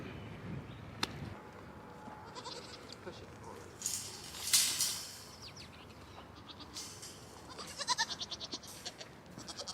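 Goats bleat faintly in a breeding pen: a few scattered, wavering calls stand out briefly against low background noise.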